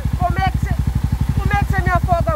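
A flooded motorcycle engine, a 70cc OHC bike, sputters in a fast, uneven chugging pulse close by, while someone talks over it in short bursts.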